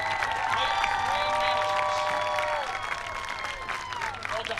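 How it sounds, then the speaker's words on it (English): Stadium crowd applauding the Arlington High School football seniors at the end of a game against Houston, steady clapping and cheers with announcer-like tonal lines over it, fading slightly near the end. "a final round of applause for your Arlington High School seniors"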